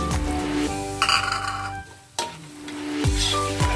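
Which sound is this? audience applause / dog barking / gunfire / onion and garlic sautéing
onion and garlic sautéing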